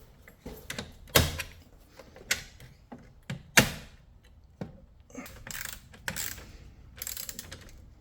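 Torque wrench tightening bolts to 12.5 foot-pounds while installing a freezer circuit, giving a series of sharp ratcheting clicks and clanks at irregular intervals, close and fairly loud, with no talking.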